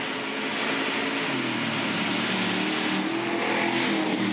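Stadium Super Truck racing at speed on the Adelaide 500 street circuit, a loud continuous engine roar with rising revs as it charges toward a corner, no commentary over it.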